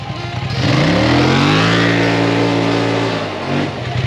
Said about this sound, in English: Stock exhaust from a dig.